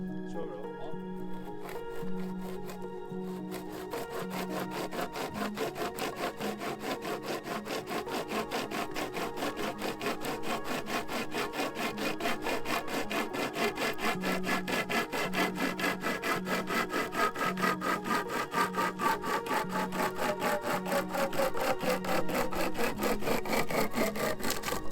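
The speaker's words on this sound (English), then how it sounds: "Now we're gonna put the pocket chainsaw to the test." Pocket chainsaw, a flexible chain with handles, cutting through wood outdoors: continuous rapid rasping strokes, close and steady for the whole stretch, gradually growing a little louder.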